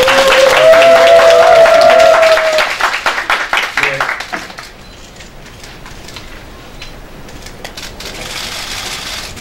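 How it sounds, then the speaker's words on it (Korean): A crowd claps in applause at a political press conference, dense at first and thinning out after a few seconds, with a high ringing tone and murmuring at the start. "우리도 박수 한번 치세요."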